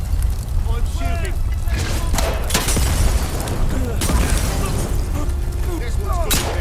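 Gunfire in the video game Atomfall, set in a radioactive England: booming shots and bursts crackle through a dense, loud game mix alongside a talking voice and background game sounds.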